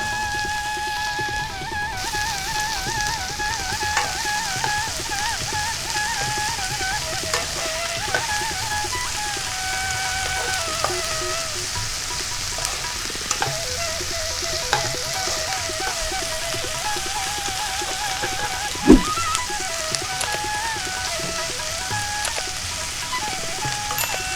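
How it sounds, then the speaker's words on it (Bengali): Onions with a little sugar fry steadily in hot oil for a railway-style mutton curry, giving a continuous close sizzle with one sharp knock partway through; no one talks. "পেঁয়াজটা আমি বেশ লাল করে ভেজে নেব। পেঁয়াজের মধ্যেই একটু চিনি দিয়ে দিচ্ছি"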